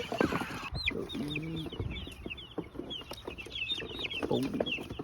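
Chicks and hens cluck and peep close by, with scattered high chirps and low clucks throughout.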